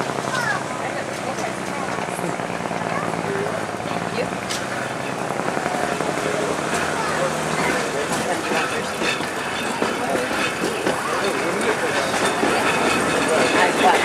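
Galloping Goose #7 rail car running on a Colorado railroad, a steady rumbling engine and rail noise throughout, with people talking nearby over it.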